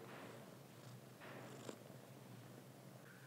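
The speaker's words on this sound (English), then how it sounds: "can you hear him purring?" A soft, steady purring rumble runs low and continuous throughout, close by, with a faint rustle midway and no voices.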